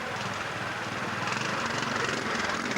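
A 350 Triumph trials motorcycle at a pre-65 Scottish trial engine revs hard and continuously, a loud, dense, buzzing roar with a rapid pulsing beat that swells slightly toward the end.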